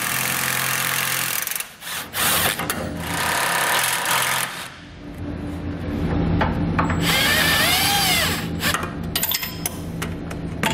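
A power drive tool turning a 16 millimeter socket on an extension and swivel beneath a truck axle, with sustained mechanical whirring and grinding that rises and shifts in pitch, close and loud, no speech.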